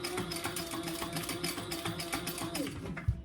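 A sewing machine stitches card slots on a phone crossbody bag, a steady close mechanical whir with rapid needle ticking, ending with a brief thump.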